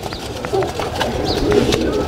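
Pet pigeons kept on a home balcony give a few soft coos amid light background noise and faint voices.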